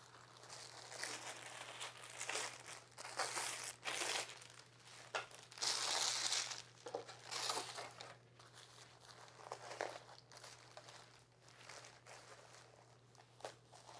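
A plastic packet from a chemo spill kit is torn open and handled, giving close, quiet bursts of crinkling and rustling plastic over a low steady hum.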